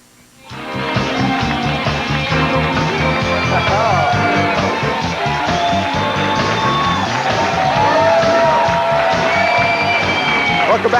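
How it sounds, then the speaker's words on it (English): A large sports crowd on Halloween cheers, whoops and yells continuously, a dense roar of many voices swelling in after a quiet start and staying loud throughout. "Some crazies in the crowd on Halloween."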